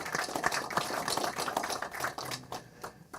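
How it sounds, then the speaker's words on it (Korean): Faint, distant applause from an audience at a Korean political book launch. The crowd claps in a thick patter for a couple of seconds before it thins and dies away. "손 총장님에게 감사의 박수 한번 다시 한번 주십시오"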